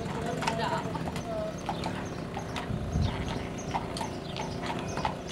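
Horse hooves clip-clop at a steady walking rhythm on a path along the Camino to Santiago, with people chatting over the plodding steps.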